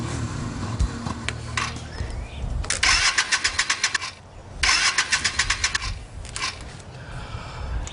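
A car engine with carburetor trouble cranks twice in rapid rhythmic bursts but fails to catch, each attempt loud and close and separated by short pauses.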